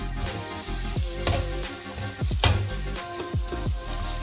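Green pigeon pea paste goes into hot oil for a Vidarbha-style winter sole bhaji, with a steady sizzle broken by stirring scrapes and bubbling pops, close-up and without talk.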